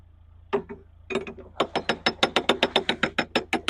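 A canal lock paddle gear at Atherstone locks is wound up by hand, its ratchet pawl clicking in a few hesitant bursts at first, then settling into a fast, even run of sharp, close metallic clicks.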